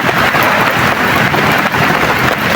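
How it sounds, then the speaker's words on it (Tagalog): Heavy rain pours down in a dense, loud, unbroken roar that fills the space, steady throughout with no voices. "So grabe yung ulan tol."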